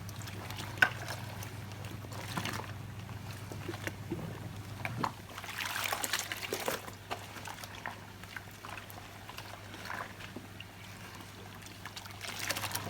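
A Hoover vacuum cloth bag is squished and worked by hand in water and detergent, giving soft sloshing and squelching in irregular bursts over a steady low hum, close and moderately quiet.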